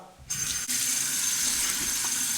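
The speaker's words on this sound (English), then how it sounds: "Just let that soak in for about 30 seconds and then rinse it off." Water runs steadily from a bathroom tap into a sink for rinsing a freshly shaved face, a continuous close gush that starts abruptly after a brief quiet moment and holds without talk.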